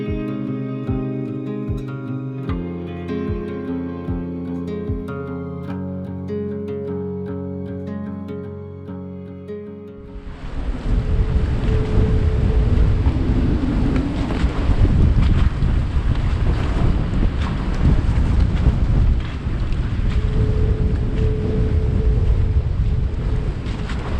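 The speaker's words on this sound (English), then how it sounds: "These gusty winds, oh my god, coming from each side." Gusty wind buffets the microphone aboard a 45ft sailboat, a loud roaring rush with waves and water noise, following a stretch of quieter tonal sounds at the start.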